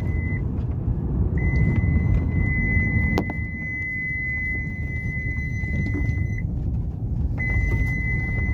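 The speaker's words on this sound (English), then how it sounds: "That beep is for the seat belt." Seat belt warning chime of a Subaru Outback: a steady high tone sounding in long stretches with short breaks, heard inside the car over a constant rumble of the running vehicle, with no talk.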